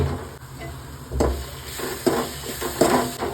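Masala powders and curry leaves frying in a pan for egg curry, a steady close sizzle with a few sharp stirring scrapes of a spoon against the pan.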